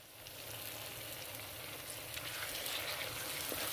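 Tomato and chili sizzle steadily in hot oil with browned onion, a constant frying hiss with faint stirring scrapes, close and alone for a few seconds.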